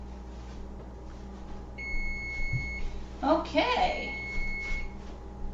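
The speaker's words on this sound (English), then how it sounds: "the timer's just about ready to go off in a few seconds" A kitchen timer goes off while a grilled cheese sandwich cooks, sounding one clear electronic beep tone of about a second over quiet room hum. A voice speaks briefly right after, amid some clattering.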